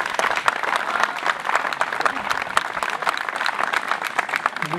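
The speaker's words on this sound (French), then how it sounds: "On peut l'applaudir." Festival crowd at a village patronal fête applauding the sangria maker, steady dense clapping throughout at close range, with a faint voice underneath.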